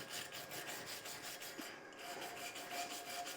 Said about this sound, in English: when you're done welding, don't forget to brush off what you just welded